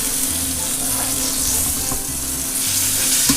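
Chicken pieces for chicken Marsala fry in a pan of hot oil with a steady, loud sizzle that carries on unbroken, and a brief clatter sounds near the end.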